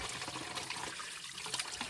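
Water trickles steadily at a water source along a hiking trail on the way to Balathuduwa, a continuous close splashing dribble with no voices.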